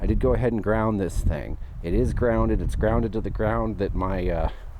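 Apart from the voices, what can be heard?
No distinct noise like a dog, phone or traffic.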